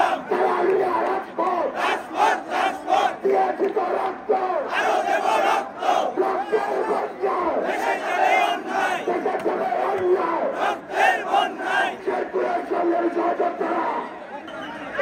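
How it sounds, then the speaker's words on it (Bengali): Thousands of students marching in a street procession in Sherpur, chanting in loud, rhythmic unison that surges and dips continuously, with crowd chatter mixed in. "এই যে হাজারো ছাত্র জনতার শেরপুরের মিছিল, এই মিছিলের যেন কোনো শেষ নেই।"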